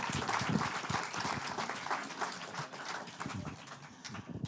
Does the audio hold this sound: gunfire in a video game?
no